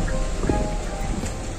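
Heavy rain pours down steadily in Chooralmala, Wayanad, a dense constant hiss close to the microphone with a low rumble underneath and no voices.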